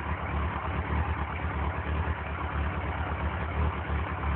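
A 2002 Yamaha R1 motorcycle engine idles nearby in a steady, even low rumble that runs unbroken for the whole stretch, with no voices over it.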